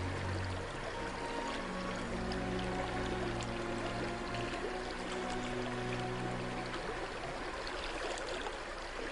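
River water flowing gently near Sedona, a steady soft rushing wash with faint trickling detail, continuous and even with no talking.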